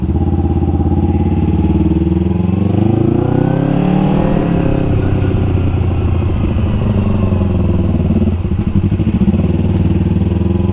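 A 250cc motorcycle engine drones steadily and loudly throughout, rising briefly in pitch as it accelerates, with road rumble underneath.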